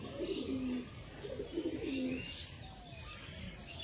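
Pigeons coo in soft repeated phrases nearby, with a few faint chirps over quiet background noise.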